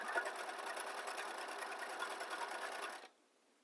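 Sewing machine stitching a buttonhole into fabric, a steady rapid whirring chatter running loud and continuous for about three seconds before stopping abruptly, with no talking.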